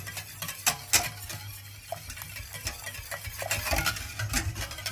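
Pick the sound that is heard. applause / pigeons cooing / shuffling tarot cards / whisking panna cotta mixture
whisking panna cotta mixture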